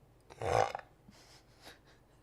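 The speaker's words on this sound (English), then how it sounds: "I have a burp locked inside me." A single loud, throaty burp from one person, close up, lasting about half a second, followed by faint breathy sounds, with no talking.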